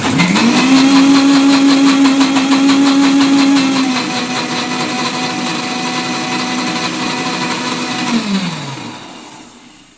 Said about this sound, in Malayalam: നന്നായിട്ട് ബീറ്റ് ചെയ്യണം ആ തരികളൊക്കെ പോകാൻ പാകത്തിന് നന്നായിട്ട് ബീറ്റ് ചെയ്തെടുക്കണേ